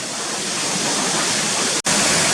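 Waterfalls tumbling down Swinnergill ravine give a loud, unbroken roar of rushing water, steady throughout apart from one sudden split-second gap.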